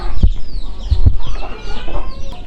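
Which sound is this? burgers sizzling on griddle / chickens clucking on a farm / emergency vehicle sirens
chickens clucking on a farm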